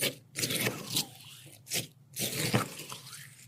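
Crisp, crunchy bites of chili crisp made with garlic and shallot, heard up close as a few bursts of scraping crunch separated by short quiet gaps.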